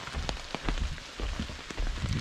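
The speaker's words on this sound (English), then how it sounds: "It's fitting that it is raining." Winter rain patters steadily onto a wooden swamp boardwalk in Congaree National Park, a dense, close hiss of drops with scattered heavier splats throughout, no voices.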